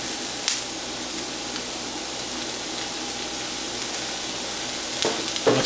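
Salisbury steak patties sizzle steadily in a hot pan, a dense, even frying hiss throughout with a couple of brief sharper crackles near the start and end.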